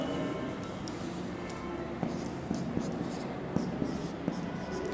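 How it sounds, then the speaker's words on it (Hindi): Chalk or marker taps and scratches on a classroom board as a chemical formula is written, with a series of short, distinct strokes over a steady roomy background hiss. No speech is heard. "इसको ऐसे लिखते हैं"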